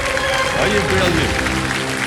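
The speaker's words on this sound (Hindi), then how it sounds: "तालियां बजती रहे जोरदार।" A studio audience on a television quiz show claps in a dense, steady round of applause, with a host's voice carrying over it.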